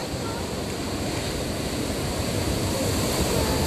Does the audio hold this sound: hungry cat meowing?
no